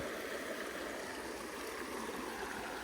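A river flows beside an outdoor breakfast spot in Jemez Springs, New Mexico, giving a steady, broadband rush of running water that holds even and unbroken throughout, with no voices over it.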